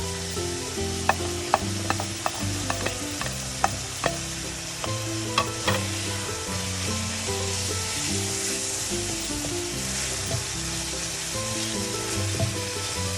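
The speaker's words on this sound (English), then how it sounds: "We're just going to wait till the onions are sauteed and they're a little soft." Chopped onions sautéing over high flame in a pan with cooked-down meat sauce for lasagna: a steady, close sizzle runs throughout, broken by sharp clicks and scrapes of a stirring spoon, with no talking.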